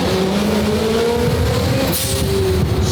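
A 1300 whp McLaren 720 GTR accelerates hard, its engine roaring loud and close with a rising then steady drone, broad rushing noise and a brief tire scrabble as it finds grip.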